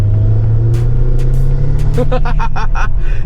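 A 700 hp V8 luxury sedan with a manual gearbox heard from inside while driving, a loud low steady engine drone with brief clicks and knocks in the cabin and no clear talk.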